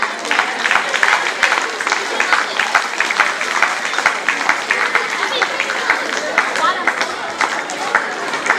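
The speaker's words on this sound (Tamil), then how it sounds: "அனைவரும் கைத்தட்டி உற்சாகப்பட்டுகள்" An audience at a church farewell and ordination-day prize ceremony claps continuously, a dense patter of hands that runs steadily for several seconds without a break.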